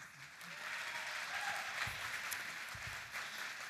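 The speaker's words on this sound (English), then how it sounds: "nice round of applause for that phase of competition" An audience at the Ms. Senior Alabama 2025 pageant applauds after a phase of the competition, a sustained, even wash of clapping heard from a distance, moderately faint with a few low thumps.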